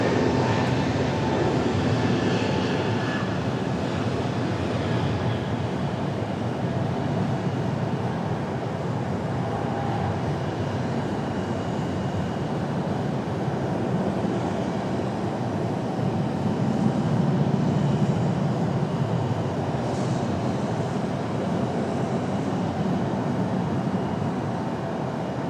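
An American Airlines jet in PSA retro livery departs Raleigh-Durham International for Phoenix Sky Harbor as a broad, steady, distant roar that holds for a long stretch.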